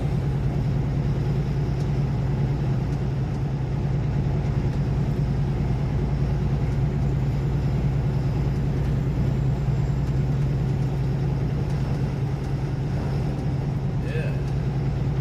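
A semi truck pulling an empty refrigerated reefer trailer rolls down the road with a constant low engine drone and road rumble from inside the cab, steady throughout, with someone talking over it.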